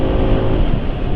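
An engine with a slipping CVT belt revs in a steady, loud drone that holds level without climbing in pitch through the short burst.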